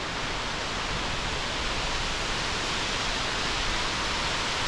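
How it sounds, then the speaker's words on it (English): Booth Creek Falls, a Colorado waterfall near Vail, pours strongly in late November, making a steady, loud, unbroken broadband rush that holds constant without pauses or voices. "Closer look at the falls here. Blowing strong in end of November."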